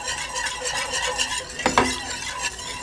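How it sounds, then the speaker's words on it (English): Hot flour being stirred into a pot of Bahamian stew fish, a spoon scraping and swishing steadily against the pot with a soft sizzle underneath and a sharper clunk near the middle. "So I'm gonna take it and I'm going to stir just like this"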